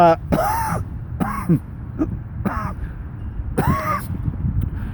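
Someone clears their throat several times in rough, gravelly bursts, close to the microphone, with short pauses between.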